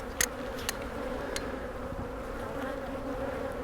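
Honey bees buzzing around an open, strong hive in a bee yard, a dense steady drone close by with a few sharp clicks near the start.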